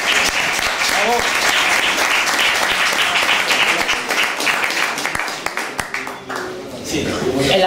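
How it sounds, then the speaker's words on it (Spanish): Sustained applause from a crowd welcoming new members of the Centro Riojano de Madrid, dense and loud, thinning toward the end as a voice speaks over it. "El aplauso es para vosotros"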